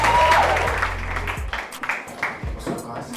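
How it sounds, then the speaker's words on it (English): An audience claps for Sebastian at a London spoken-word and poetry stage show, a broad wash of applause with some musical tones underneath that thins into scattered claps and cheers toward the end. "give a massive round of applause for Sebastian"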